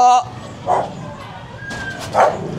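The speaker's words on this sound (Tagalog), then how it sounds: "Laki yung aso nun ah" A big dog barks a few times, deep woofs spaced apart, over a background of people talking nearby.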